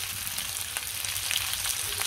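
Gravy sizzles in a frying pan as it is cooked for a fish dish, a steady close crackling hiss with small pops and faint stirring and no talk.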